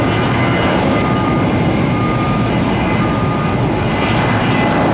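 A 23-year-old Boeing 737-700 airliner runs its engines at Tampa International Airport, a loud continuous jet roar with a steady whine holding throughout, no voices present.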